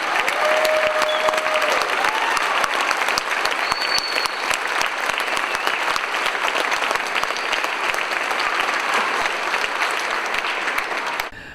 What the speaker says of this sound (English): just one more round of applause as these guys go sit with their families